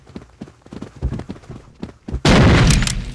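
A grenade goes off in Rainbow Six Vegas 2 after a run of rapid clicking and tapping footsteps, a sudden loud close blast that roars and crackles to the end, with no voices.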